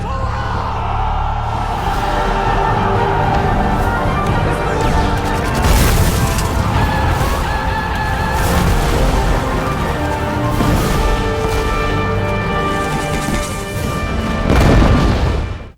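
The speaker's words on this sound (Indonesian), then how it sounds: "Tempat itu pun diserang dan dihujani peluru dan bom dari segala arah oleh tentara Cina." War film battle scene in which soldiers are attacked with bullets and bombs from every side: dense, continuous rumbling blasts and booming explosions with crackling gunfire, loud throughout, swelling with a heavy burst near the end, with faint shouting mixed in.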